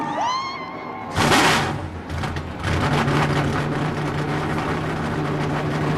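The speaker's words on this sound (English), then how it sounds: "The engines are fired up." Race truck engines at a 2009 NASCAR Camping World Truck Series event firing up, a sharp roar bursting in after a second, then a crowd of engines settling into a steady low idling rumble with a whine dying away.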